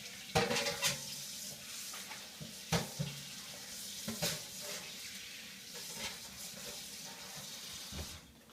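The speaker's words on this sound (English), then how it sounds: "Thoroughly rinse the produce and pat it dry" Tap water runs into a sink while produce is rinsed for a grilled pork chop meal kit, a steady splashing stream broken by irregular clunks and handling knocks, close and alone.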